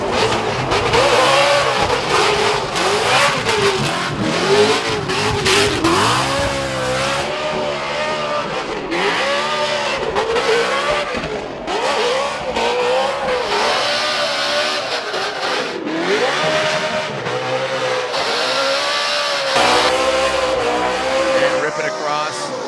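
A Formula Drift competition car drifts at an event in Indianapolis, its engine revving and wailing up and down continuously with tire squeal, while a commentator talks over the action.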